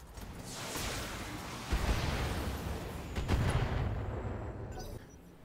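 A BattleTech mech unloads all its weapons in a video game, a continuous loud roar of rumbling blasts with two heavier thumps standing out, then tapering near the end.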